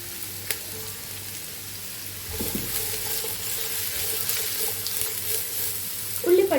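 Sliced large onions sautéing in hot oil for a king fish rice dish, a soft steady sizzle with light stirring and utensil clatter running throughout and a brief louder clink near the end.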